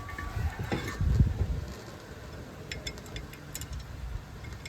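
Two 18mm bolts being tightened on a Mercedes GLC 250 brake caliper assembly, a few quick ratcheting clicks with a louder clatter early on, then quieter scattered mechanical ticks.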